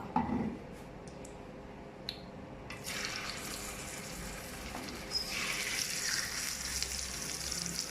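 Marinated chicken dropped into a hot pan for a desi-style garlic chicken, setting off a steady, watery sizzle that swells louder after a few seconds, with a couple of sharp clinks near the start.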